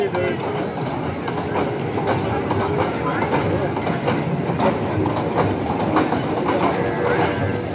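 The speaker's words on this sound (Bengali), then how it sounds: "bullet train" A bullet train ride at Dream Holiday Park rumbles steadily with rail clatter and rhythmic clicks throughout, loud and continuous, with voices mixed in and a few bird calls in the background.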